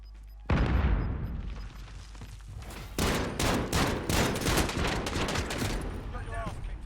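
A loud grenade blast in Call of Duty Warzone opens the scene, followed by a long stretch of rapid, overlapping gunfire bursts that stay close and dense until the end.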